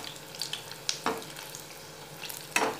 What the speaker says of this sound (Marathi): हे मिरचीचे भजे आहेत हे भजे आपल्याला तळून घ्यायचे आहेत